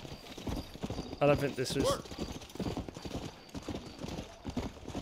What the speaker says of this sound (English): I feel bad for this horse, though. Are you my new horse?